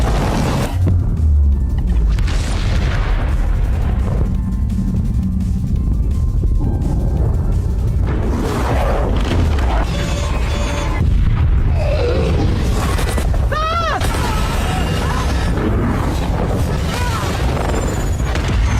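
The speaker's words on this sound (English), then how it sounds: "With a massive mushroom cloud rising, the entire canyon was leveled to the ground in an instant." A huge film explosion levels a canyon under a rising mushroom cloud, heard as loud, continuous rumbling booms and blasts with dense layered debris and crackling throughout, near and overwhelming.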